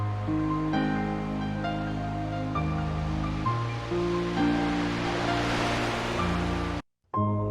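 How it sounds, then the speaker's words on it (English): Ocean waves wash in a soft, continuous surf hiss beneath sustained piano notes on the Kingdom Hearts title screen, swelling midway before a sudden brief dropout. "and the waves are louder."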